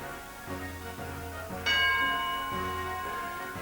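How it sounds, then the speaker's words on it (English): A game show bell rings once during a catchphrase round, a bright metallic ding with a lingering tone that rises over a bed of background music. "There goes the bell."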